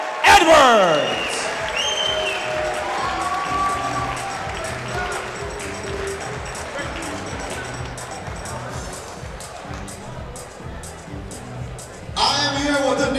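Crowd noise at an MMA event in London's York Hall after a TKO win, a sustained roar of cheering and applause that fills the hall, fades slightly, then swells again near the end.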